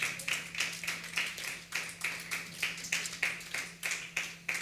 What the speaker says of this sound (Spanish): ¿Cuántos vamos a darle un aplauso al Señor?